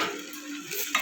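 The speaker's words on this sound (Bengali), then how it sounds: "সমস্ত মশলাগুলোকে কষিয়ে নেব" Spice paste being stirred and sautéed in a pan for a jackfruit and prawn curry, a soft close scraping and low sizzle with a brief spoon clink near the end.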